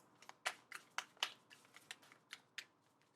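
A tarot card deck is shuffled in a quiet room, giving a string of about a dozen sharp, crisp card slaps and flicks in an uneven rhythm, close and clear with no talking.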